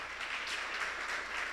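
A church congregation applauds together for the Lord during a Spanish-language sermon, steady broadband clapping held at a moderate, even level with no voices on top.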